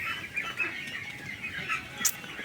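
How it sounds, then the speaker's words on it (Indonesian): Ducks in a crowded meat-duck pen on a farm raising about 1,200 birds, a dense, steady chorus of quacking and chattering with occasional wing flaps, no talk. "Inilah keadaan kandang bebek mahasiswa UB ya."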